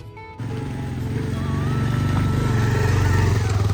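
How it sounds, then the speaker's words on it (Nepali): Several motorbikes gather on a road in Panchthar, Nepal, their engines idling and revving close by in a steady, rising drone, with a brief burst of other noise at the very start. "रोशन पनि आइसक्यो सो यहाँ गाडीहरू चाहिँ सबै बाइकहरू चाहिँ आइसक्यो"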